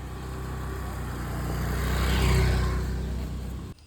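A vehicle approaches on a road near a bend, its engine hum swelling to a peak as it passes close by and then fading away, alone with no talk.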